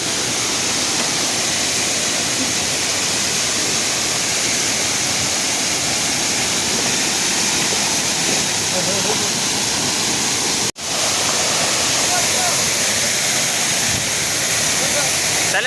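Loud, constant roar of a waterfall in the first monsoon rain, dense rushing water close by, with a brief dip partway through before the roar resumes.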